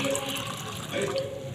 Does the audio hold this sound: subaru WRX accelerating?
no